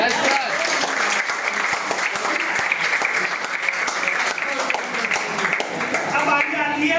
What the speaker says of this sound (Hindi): एक ताली बनती है।